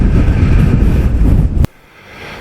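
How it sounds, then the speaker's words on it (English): Strong wind buffeting the microphone on a cliff-top walk on the Isle of Arran, a loud continuous low roar that cuts off abruptly, leaving only a faint breeze. "Gosh, it's windy. It really is."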